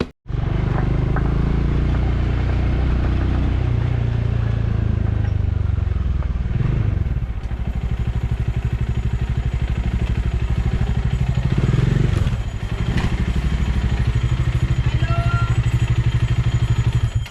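A motorcycle engine runs steadily while riding, a loud close rumble with occasional clatter and bumps, and no talking.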